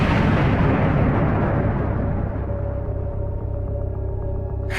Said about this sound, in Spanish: el reactor explotó.